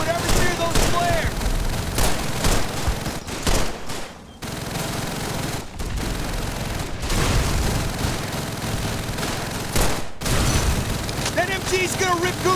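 Machine gun fire rattles through a Call of Duty 3 battle: dense, loud, sustained bursts with booming blasts mixed in, close and continuous for the whole stretch, with soldiers shouting over the gunfire.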